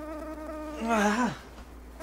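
Close, high-pitched buzz of a mosquito whining steadily, swelling louder for a moment mid-clip as if passing near, then fading back to a faint hum.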